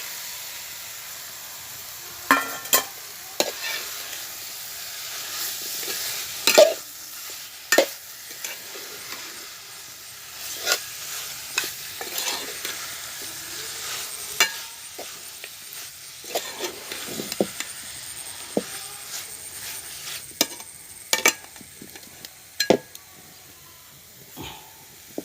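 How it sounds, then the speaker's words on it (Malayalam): Chicken pieces sizzle in a pan for a kumbalanga (ash gourd) chicken curry, a steady hiss under repeated scraping stirs and sharp clicks of a utensil against the pan, close and fairly loud, with no talking. "ഇനി ഇറച്ചിടാം. എനിക്ക് ഇറച്ചിട്ടൊന്ന് അടക്കാം"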